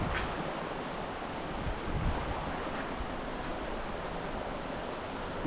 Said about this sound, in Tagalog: malakas ng tubig